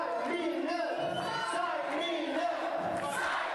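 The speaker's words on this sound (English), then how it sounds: "We hear the chants from the crowd continuing." Wrestling crowd chanting at an Overdrive 2018 match between Surfer Mitch and Jesse Champagne, a steady rhythmic roar of many voices filling the arena throughout, with some shouting rising above the chant.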